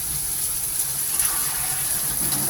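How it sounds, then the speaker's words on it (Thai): Water pours into a pan of stir-fried rice noodles with pork bones, a steady continuous gushing wash that runs loud and close for the whole stretch with no talk over it. "เราใส่จะใส่น้ำลงไปนิดหน่อยนะ"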